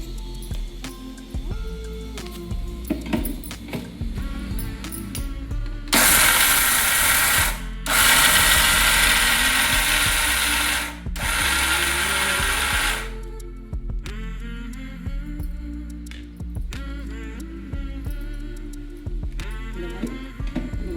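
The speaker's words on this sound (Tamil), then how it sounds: "நல்லா ஆறினதும் இந்த மிக்சி சாரில் போட்டோம். இதை பொடி பண்ணிப்போம்." Electric mixer grinder whirring loudly as it grinds roasted seeds to powder in its jar, a sustained burst of about seven seconds with a brief pause partway, framed by quieter kitchen handling before and after.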